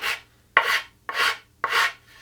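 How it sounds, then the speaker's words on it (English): The finer side of a rasp files a wooden Telecaster guitar body in four even, close strokes, each a dry scraping rasp with brief pauses between and no talk. "I'll just take the finer side of my rasp"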